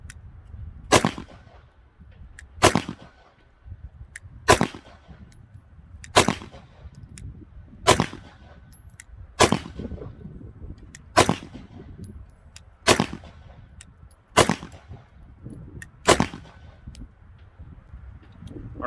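Ten evenly spaced shots from a Taurus TH9 9mm pistol at a shooting range, each a sharp loud crack with a short ringing tail, fired at a steady deliberate pace about two seconds apart.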